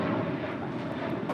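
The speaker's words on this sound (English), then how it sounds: "1315 departing to Portland on a 737-800" An Alaska Airlines Boeing 737-800 departing LAX, its engines a continuous loud broadband roar with no pauses.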